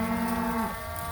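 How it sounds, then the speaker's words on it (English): A cow lows long and loud during a fall mob drive of about 320 cattle to the next farm, its call bending downward at the end over a muffled herd background. "These cows are completely upset."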